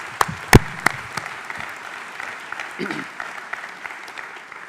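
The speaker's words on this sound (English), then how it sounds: "please join me in another round of applause" A graduation ceremony audience breaks into a round of clapping, scattered sharp claps over a steady patter that holds for several seconds and then thins.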